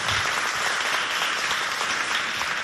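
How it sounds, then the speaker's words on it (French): Applause from one team's side of the audience at a school quiz contest between two lycées, a dense, steady burst of clapping at even loudness throughout. "les applaudissements ont commencé de l'autre côté"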